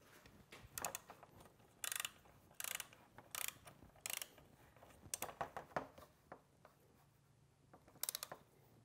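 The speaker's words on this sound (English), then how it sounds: "you're going to want to torque the bottom bolts to 16 foot-pounds" Ratcheting clicks from a torque wrench tightening the bottom bolts of a remote oil cooler on a 6.0 diesel engine, coming in short bursts of rapid clicks with pauses between them, close up and fairly quiet, with no talking.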